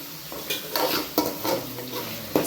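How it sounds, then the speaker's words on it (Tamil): Beans, carrot and capsicum sauté in a hot pan, a soft sizzle under repeated scraping strokes of a spoon stirring the vegetables, close and fairly loud. "சிம்லேயே கொஞ்சம் வந்து வதக்கி விட்டுடலாம்."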